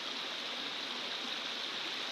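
A thin flow of water spills over a dam in Slips Canyon, producing a constant, even hiss of rushing water with no pauses or other sounds.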